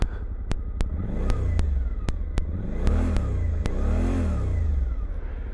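A 2024 Suzuki V-Strom 800 motorcycle engine runs steadily up close, swelling through several rising and falling revs over a low rumble, with sharp periodic ticks and no voices.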